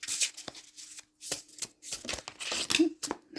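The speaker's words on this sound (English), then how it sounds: "That's too many cards. Yeah, let's just keep shuffling here." Tarot deck being shuffled by hand, a few quick riffling bursts and papery card slaps in short uneven clusters, close and fairly quiet, with a voice talking in between.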